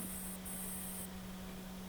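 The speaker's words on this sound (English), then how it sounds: "just spray real light to get that chrome look on the black" Steady hiss of Quicksilver Chrome spray paint misting lightly onto a black Hot Wheels 66 Nova toy car, a continuous close airy spray with a faint hum underneath.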